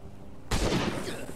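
A single sharp gunshot cracks out after a moment of quiet in the video game Last Day on Earth: Survival, followed by a lingering noisy tail of game battle sounds.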